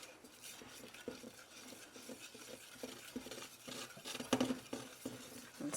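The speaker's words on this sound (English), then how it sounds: "And stir in, removing all the lumps." Powdered turmeric and chickweed herbs are stirred into a homemade salve, a faint, continuous scraping and swirling of a utensil in a bowl with soft irregular taps.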